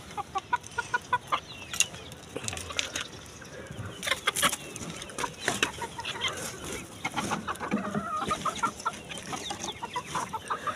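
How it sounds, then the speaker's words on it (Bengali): Desi chickens on a rooftop clucking in short irregular bursts, several birds calling close by over a quiet background. "এই হচ্ছে আমার সেই মুরগিগুলো"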